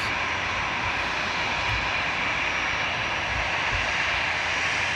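An airplane passes at Frankfurt Airport at sunset, its engines giving a loud, steady broadband roar that holds evenly throughout, with no talk over it.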